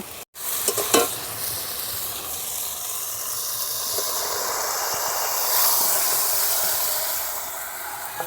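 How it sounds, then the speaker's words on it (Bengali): Boiled potato and bottle gourd greens stir-fried in spice paste for lau shaker chorchori, giving a steady close sizzle and hiss with occasional scraping stirs, after a sharp clatter at the start. "এবার আলু আর শাক যে আমি সেদ্ধ করে রেখেছিলাম এবার মশলার মধ্যে দিয়ে দেব।"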